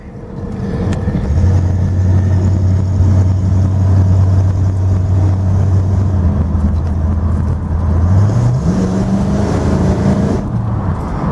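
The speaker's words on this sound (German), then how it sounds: "Sogar der Kickdown funktioniert." A 1967 Ford Mustang coupe with a 289 V8 accelerating on kickdown, a loud steady engine drone rising in pitch as it pulls, then shifting up near the end, heard from inside the car.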